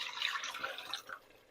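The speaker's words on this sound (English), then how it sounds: "So I am going to pour the marinade in here" Marinade is poured into a pot of pork tamale soup with annatto, giving a faint, close splashing and trickling of liquid that tapers off near the end.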